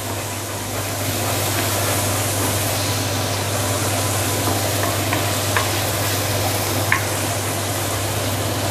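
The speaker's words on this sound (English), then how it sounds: "use medium heat to slowly saute this. Keep on doing the stirring for a couple of minutes" Okra and sambal sautéing in oil over medium heat, a steady loud sizzle with faint scraping of the stirring utensil throughout, no voices.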